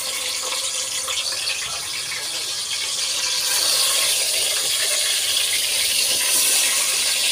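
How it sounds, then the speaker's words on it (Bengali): Chicken pieces coated in lemon, turmeric and biryani spice frying in a pan, a steady loud hissing sizzle that swells louder halfway through, with no voices. "যে মুরগিটা ভাজতে দিয়ে দিয়েছি"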